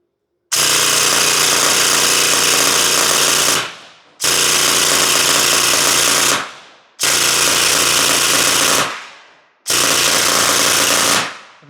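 An Aztech Chimera gel blaster fires full auto through a chronograph in four loud, sustained bursts of a few seconds each, every burst a dense, rapid mechanical rattle that cuts off sharply with brief silences between.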